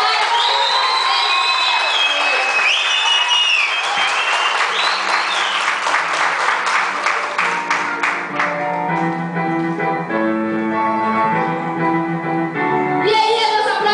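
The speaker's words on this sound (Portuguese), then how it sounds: "Palmas pra Sara" Audience applause at a Mother's Day theatre play: steady, dense clapping from a sizeable crowd with cheers and whoops early on, thinning into distinct claps and voices before swelling again at the end.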